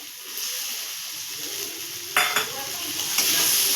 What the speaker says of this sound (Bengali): এবার আমি এর সঙ্গে বেগুনটা দিয়ে মেশাবো